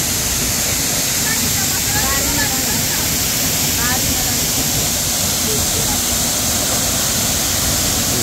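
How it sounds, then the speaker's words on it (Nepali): A very tall twin waterfall at Chitlang, Chainpur, Sankhuwasabha, Nepal, roaring loud and unbroken, a dense hiss of falling water heard from close beneath it throughout. "यो हामी अहिले एकदमै सुन्दर झरनाको मुनि मजा लिइरहेका छौँ।"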